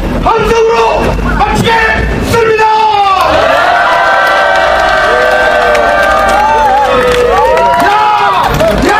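Rally crowd at a labor solidarity cultural event in front of a government residence erupting in loud, sustained applause and cheering, with whoops and shouting voices layered over continuous clapping throughout.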